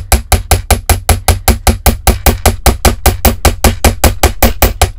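Steady rapid hammering on wire earring pieces, about four metallic strikes per second, close and loud, continuing without pause or talk.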